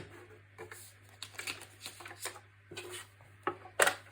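A paper trimmer slices card blanks with a series of short scraping, sliding strokes and soft taps, close and quiet, ending in a sharper crisp cut.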